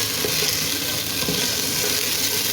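Mutton pieces sizzle and fry in a pan for dal gosht, a steady, close hiss of hot oil with faint scraping and stirring, and no one talking.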